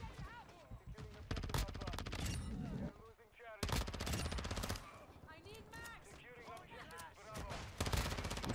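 Rapid shotgun and automatic gunfire in Call of Duty, VEL 46 loadout, dense bursts repeating throughout with loud close blasts, mixed with game sounds and talk.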